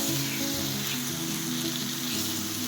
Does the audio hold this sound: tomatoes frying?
yes